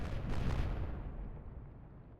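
Warship guns firing in the naval game Atlantic Fleet, a deep booming blast that rolls off into a fading rumble, alone with no talk.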